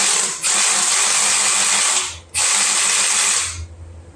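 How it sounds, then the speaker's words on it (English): An impact wrench works on alternator bolts on a Jeep, two long loud whirring bursts close up, separated by a brief pause, the second cutting off into quiet. "So our son got a little lazy and he's going to use the impact."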